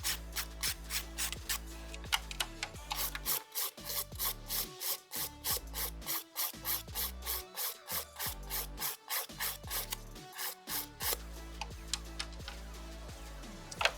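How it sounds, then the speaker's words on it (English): A hand file rasps rhythmically across acrylic nails in quick, even back-and-forth strokes, close and fairly loud, with a few brief pauses between passes; no talking. "I'm going to do this filing routine on all the nails."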